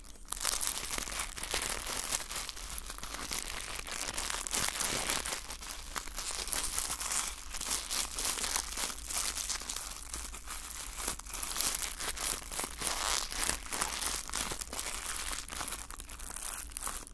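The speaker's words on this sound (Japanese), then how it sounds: "しばしリンゴ飴の音です。" Handmade craft candy apple being handled, producing soft continuous crinkling and crackling like wrapping material, close and quiet, with no talking.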